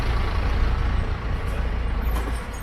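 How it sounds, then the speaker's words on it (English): A truck rolls past close by, a loud broad roar of engine and tyres that swells and holds, with a brief hiss like an air brake near the end. "Let's just wait for this truck to pass."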